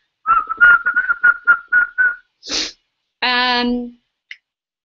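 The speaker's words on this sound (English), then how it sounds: "I can whistle." A person whistles a quick series of short rising-falling notes, followed by a breathy puff, a brief buzzing hum and a faint final chirp.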